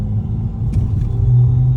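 A BMW car's faulty engine rumbles loud and close, a continuous low throb that wavers unevenly, with no talking.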